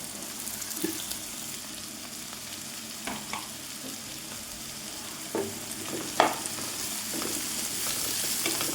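Shallots, garlic, ginger and curry leaves fry in a pan with a continuous soft sizzle, broken by occasional clinks and scrapes of stirring, close and fairly quiet with no talking.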